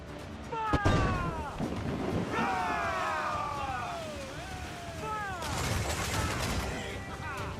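Booming cannon volleys and bursts of gunfire from a pirate ship battle video game, with a loud blast early on and sustained crashes later, mixed with excited shouting voices and game effects throughout.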